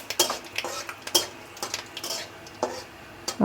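Spices such as bay leaf, dried chillies and five-spice frying in a pan, with close, irregular scrapes and clinks of a spoon stirring against metal over a light sizzle.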